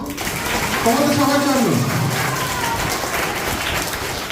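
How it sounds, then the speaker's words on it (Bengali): Audience applause at a Lions Club event held at a girls' high school, a dense, steady wash of clapping heard throughout, with a voice speaking briefly over it. "একটু জোরে তালি হোক"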